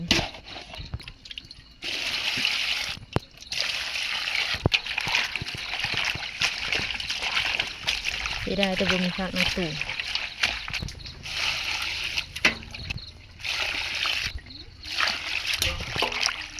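Fish being washed by hand in water for a Thai fish curry, with repeated splashing and sloshing up close under steady talking.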